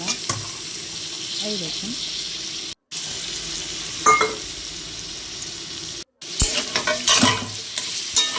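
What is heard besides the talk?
stirring and frying fish curry spices in a pan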